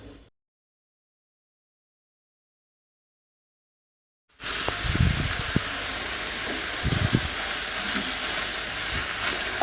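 After a few seconds of silence, a loud steady sizzle of onions frying in hot oil for a beef curry begins, with occasional clunks and stirring sounds.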